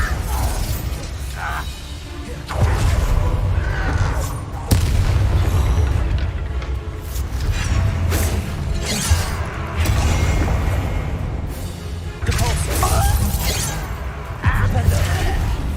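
Repeated blasts from an explosive spell in the game Hogwarts Legacy boom through a battle, several heavy bursts with crackling debris spread across the clip amid combat noise and a voice.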